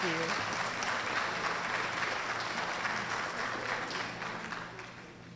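Sustained audience applause fills a hall at a school district parent awards ceremony, a dense, steady wash of many hands clapping that slowly fades toward the end.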